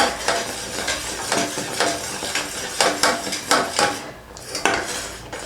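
Jaggery syrup for javvu mittai candy is stirred in a pan, with steady scraping and clinking of a utensil against the metal repeating in an uneven rhythm, close and fairly loud, with no talk.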